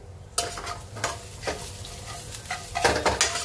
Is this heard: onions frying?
yes